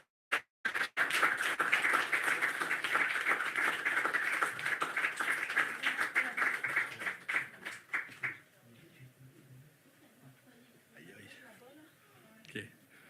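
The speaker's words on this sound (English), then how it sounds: "tout le monde, une grande main d'applaudissements pour David Galvaud." A crowd at a poetry festival bursts into sustained applause that builds, holds steady for several seconds, then fades out, leaving scattered sounds from the room.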